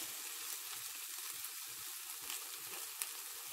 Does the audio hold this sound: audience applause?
no